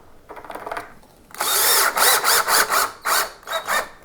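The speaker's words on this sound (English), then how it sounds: "and then you screw it into place" A power drill drives a screw into a vinyl retrofit window frame: a quiet whir at first, then a loud burst of motor whine broken into several short pulses as the screw snugs in, close up with no talk.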